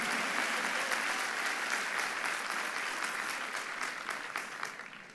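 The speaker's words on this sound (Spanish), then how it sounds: "Vamos, denle un aplauso fuerte al Rey de Reyes, al Señor de los Señores." Loud, sustained applause from a church congregation, a dense wash of many hands clapping steadily that tapers slightly toward the end.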